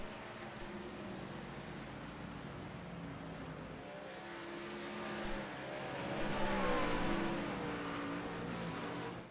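Race trucks lapping the Loudon oval make a continuous droning engine roar that swells louder as the pack passes mid-way, with whining tones rising and falling at moderate distance.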